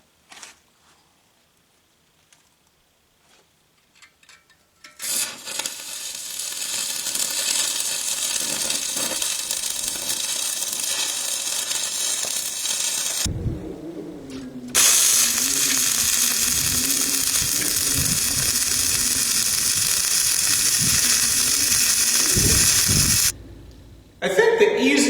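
An old steel wheel rim is being welded over its big holes to make a forge, giving a loud, continuous crackling sizzle that runs in long bursts with short pauses between them.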